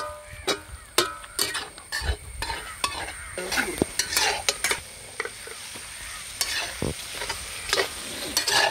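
Beef peralan being stirred in a frying pan, with repeated scraping and clacking strokes of a utensil over a steady sizzle, close and fairly loud, with no talking.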